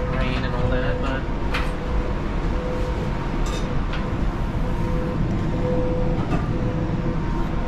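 A train running on rails on a rainy day, with a constant rumble and rattle of the carriage, occasional clicks and squeals, and faint voices in the background throughout.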